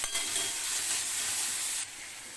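Vegetables for momo filling sizzle and hiss steadily in a hot pan, a loud continuous crackle that drops slightly in level near the end, with no talking.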